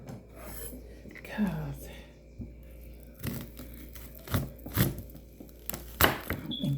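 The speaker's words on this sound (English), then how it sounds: "I'm just cutting it up on the table." Onion is chopped on a table with a knife, making sharp scraping cuts and a few distinct thumps against the surface, close and moderately loud, with a brief spoken word in between.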